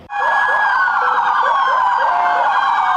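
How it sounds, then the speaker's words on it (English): Police patrol car sirens sound loud and close, a wailing tone that sweeps up and down while shorter yelping bursts repeat over a low vehicle rumble. "patrol cars with their sirens made it known the community supports the hard work they're doing inside of their facility"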